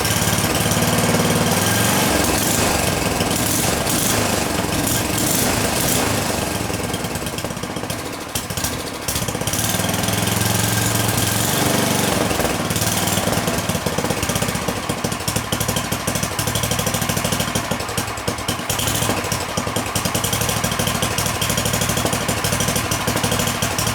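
Small single-cylinder snow blower engine runs loud and close with a steady rattling, knocking drone, briefly dipping in power midway before picking back up, with no talking.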